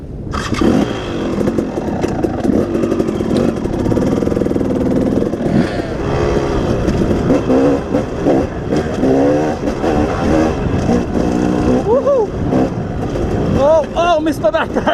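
A group of motorcycles passing close by on a hot day out near a swimming hole, with loud continuous engine roar, revs rising and falling as several bikes go by, and voices partly under the noise.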